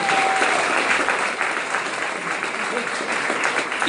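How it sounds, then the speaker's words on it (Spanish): A church congregation applauds during a sermon in Mexico City, sustained loud clapping from a crowd filling the whole moment with voices underneath. "si ese aplauso es para el Señor"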